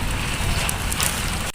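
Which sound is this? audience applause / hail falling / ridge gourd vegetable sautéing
hail falling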